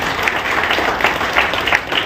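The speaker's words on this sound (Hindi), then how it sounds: "इन दो बच्चों के लिए जोरदार तालियां हो जाएं।" An audience at a thalassemia charity car rally event in Faridabad applauds two children after their speech, a steady, dense wash of clapping from a crowd with no voices.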